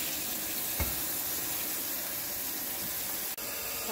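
Cold water pours steadily from a kitchen tap into a sink, a continuous close splashing hiss with a faint knock near the end, heard alone.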